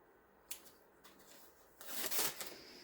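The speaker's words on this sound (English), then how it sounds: "so you peel off your backing." The backing is peeled off an iron-on sheet, a quiet crinkle and tear of thin film with a few light papery ticks before a longer rustling peel near the end.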